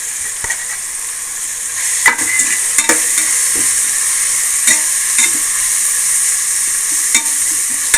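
Ground fennel spice powder fries in hot oil and is stirred in a pan for capsicum vegetable biryani, a loud steady sizzle close up, punctuated by sharp spoon scrapes and taps against the pan.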